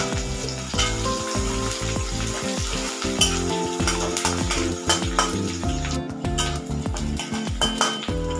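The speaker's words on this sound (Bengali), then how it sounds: "এরপর দিয়ে দিলাম পেঁয়াজ কুচিগুলোকে লাল করে ভেজে নিতে হবে।" Chopped onions sizzle steadily in hot oil with dried chili, whole cumin and bay leaf, the frying hiss close and continuous while a utensil scrapes and clinks against the pan in an uneven rhythm.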